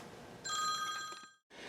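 A telephone rings with a bright electronic trill that cuts off abruptly, then starts again after a brief silence. It is heard close up and alone, with no talking over it.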